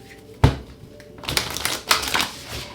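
A sharp tarot-deck tap followed by a brisk riffling shuffle, a short pause, then another quick shuffle, close and clear with no talking.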